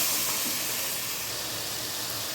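Ground ginger garlic paste hitting a pan of tomatoes for chicken gravy gives a loud, steady, close sizzle, an even hiss running through without pause and with no talking.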